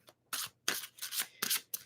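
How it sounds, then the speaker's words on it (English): Tarot cards riffled and shuffled by hand in a quiet room, several close, crisp papery bursts separated by short silences. "Well, we had a good shuffle, so I'm going to get rolling."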